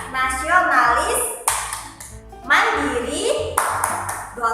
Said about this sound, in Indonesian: Nah, seperti itu tepuknya.